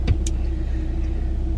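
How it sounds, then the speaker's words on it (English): A parked car's engine idles to warm up, a steady, low, close rumble with an even pulsing beat, preceded by a brief click or thump near the start, with no talk over it. "I'm just kind of letting the car heat up for a little bit."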